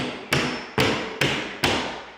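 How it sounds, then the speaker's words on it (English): A hammer strikes a steel door hinge pin resting on concrete four times at a steady rhythm, each blow a sharp, loud metallic smack with a short ringing decay and no talking. "If you take the hinge out and smack it on the asphalt or the concrete with a hammer, put it back in."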